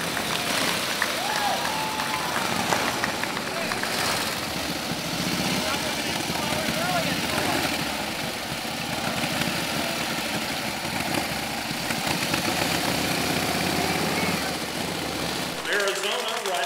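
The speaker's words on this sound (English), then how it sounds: "From California, Paul Watts riding a 1915 Harley Davidson." A 1915 Harley Davidson vintage motorcycle running at an endurance-run event, its engine a steady, rough mid-pitched drone blended with crowd noise and an announcer talking over a loudspeaker.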